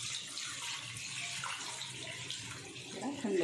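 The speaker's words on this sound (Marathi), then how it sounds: "ह्याच्यावर असं आपण थंड पाणी टाकायचं" Cold water is poured over boiled cowpea leaves sitting in a strainer, giving a steady, fairly quiet splashing rush that carries on throughout.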